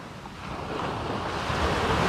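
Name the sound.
ocean surf waves at New Smyrna beach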